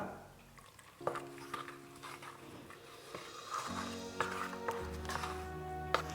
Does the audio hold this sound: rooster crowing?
no